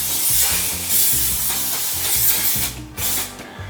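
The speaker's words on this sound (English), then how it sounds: "Now on this right panel, I'm going to use wax. This is just some generic spray on wax." Generic spray-on wax hisses out of a can onto a painted panel of a 1966 Lambretta scooter in several close, steady bursts, with brief pauses and faint clicks of the nozzle between sprays.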